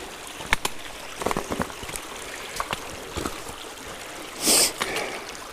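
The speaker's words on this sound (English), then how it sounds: "this is the first time I've seen water coming through Trout Creek" Water flows and trickles through Trout Creek along a hiking trail, a soft steady stream under scattered footsteps and clicks, with a short brighter splash near the end.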